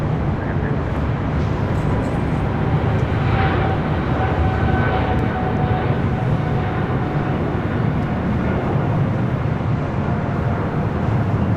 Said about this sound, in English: China Airlines Cargo Flight 5382 heading to Miami, a 777 freighter now taking off on the 25s.